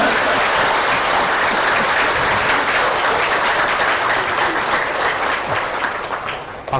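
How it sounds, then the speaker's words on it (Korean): An audience at a Buddhist lecture applauds to welcome the speaker, a loud, dense, sustained roar of clapping that thins slightly near the end. "큰 박수로 대학생의 강의를 통해주시기 바랍니다."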